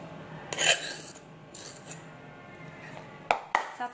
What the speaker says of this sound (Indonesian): ketumbarnya juga saya akan langsung aduk bersama dengan kunyitnya